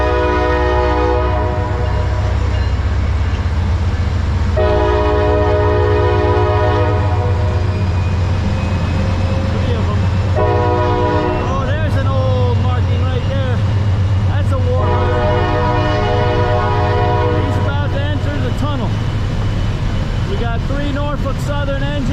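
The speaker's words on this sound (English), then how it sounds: "This looks like a pretty mixed general freight as compared to the intermodal of the other one." A Norfolk Southern mixed general freight train passes near Hoosac Tunnel, its locomotive horn blaring loud in repeated long blasts over deep diesel rumble and steady wheel noise, with people talking now and then.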